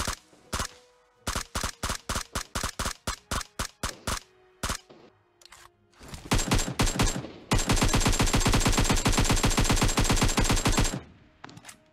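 Gunfire in PUBG: a run of separate sharp shots in quick succession, then a short pause and a dense, continuous automatic burst lasting several seconds, loud and close with no talk.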